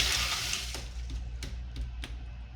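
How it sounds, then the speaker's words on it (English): Water rushing through an opened irrigation zone manifold, a steady close hiss of flow with a few brief knocks and clicks breaking over it, no talking. "we are going to open our zone here, let some water come through"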